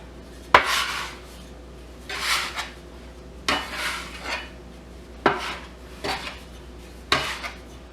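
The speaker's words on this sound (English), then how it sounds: "If you have a bench scraper, this is a great way to do it." A metal bench scraper scrapes flour into sticky bread dough on a work surface. About six distinct rasping strokes come at a steady pace, close and alone, with short pauses between them.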